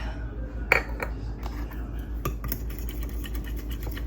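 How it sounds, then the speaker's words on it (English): A metal utensil scrapes and clinks against a bowl while Kodiak pancake mix is stirred, with light irregular taps and scrapes over a steady background hum. "Just give that a quick little stir"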